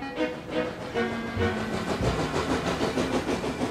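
Heavy train rumble with rhythmic clanking and chuffing, continuous and fairly loud, as steam engines roll away from a steamworks.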